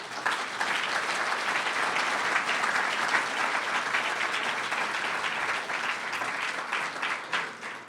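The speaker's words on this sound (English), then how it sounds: "This round of applause is for all of those just mentioned." An audience applauds at an awards ceremony, a dense, sustained wash of clapping from a large crowd that holds steady for several seconds before starting to taper off at the end.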